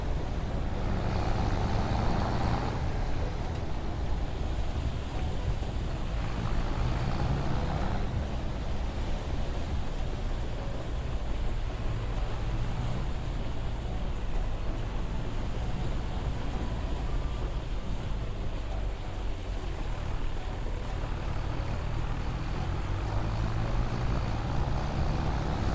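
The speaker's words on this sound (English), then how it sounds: "That roar from the tractor is heaven to me." A Mercedes tractor engine roars steadily and loudly throughout in a farming simulator game, a dense, continuous rumble with slight surges in intensity and no pauses.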